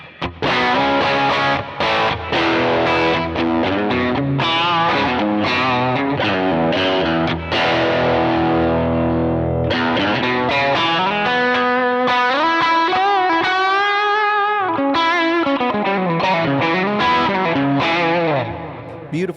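Electric guitar played through a Kemper amp, a distorted, effects-laden tone with a bright high-end chirp, loud and sustained throughout with chords and ringing notes, no voices.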